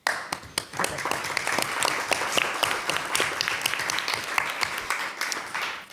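An audience applauds panelists after a Q&A session, with many hands clapping in a brisk, sustained burst at fairly close range.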